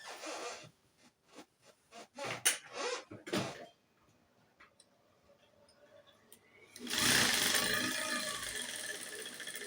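A sewing machine running a stitch along skirt fabric: a short stretch of quick rhythmic mechanical stitching, then a lull with faint handling, then a louder steady whirring run near the end.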